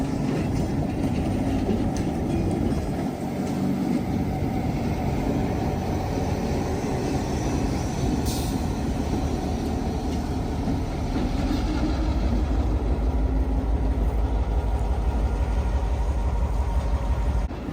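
Locomotive 1603 passes a railway crossing, a continuous loud rumble of wheels and rolling cars with rhythmic clatter that holds steady throughout.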